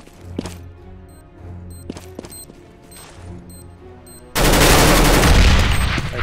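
Counter-Strike: Global Offensive gunfire: a few sharp isolated shots over quiet game ambience and beeps, then a sudden loud, sustained burst of rapid fire filling the last two seconds.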